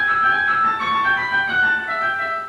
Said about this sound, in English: the actual echo only that I recorded of it sounds like this.